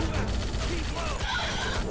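Mobile Infantry rifles firing at swarming bugs in a Starship Troopers mod battle, a dense continuous rattle of gunfire with mechanical clatter, steady and loud throughout under faint voices.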